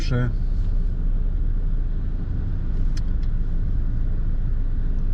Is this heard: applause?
no